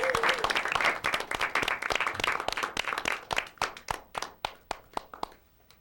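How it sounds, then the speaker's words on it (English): A studio audience claps for a singer, dense applause at first that thins into scattered individual claps and fades out. "Can we have a big round of applause for her to sing for us?"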